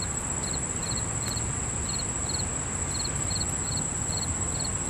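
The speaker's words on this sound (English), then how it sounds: "I honestly don't even know all the names of these insects." Insects chirping among mountain mint on a farm: a steady high continuous trill with a second cricket pulsing in short regular bursts, alone in a quiet outdoor setting.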